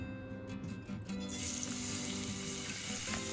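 Two tablespoons of light olive oil heat in a pan, a faint crackle that swells into a steady, hissing sizzle about halfway through.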